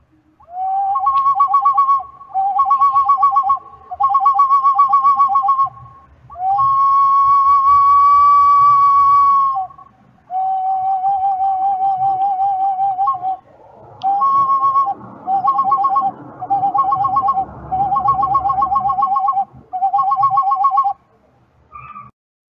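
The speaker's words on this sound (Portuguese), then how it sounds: "Esse é o som oriundo deste apito inca." Inca ceramic whistle blown in a series of clear, loud tonal blasts, some short and repeated in quick bursts, others long and sustained, with slight pitch shifts between groups and no talk.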